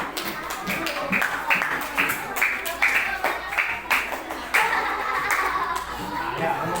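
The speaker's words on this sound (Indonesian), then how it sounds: "Tepuk tangan untuk Nabila." Classroom of students clapping for a classmate during a social studies lesson, a ragged burst of hand claps and taps going on for several seconds at close range, with voices talking over them.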